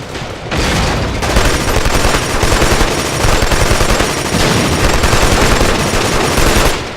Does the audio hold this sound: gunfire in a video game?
yes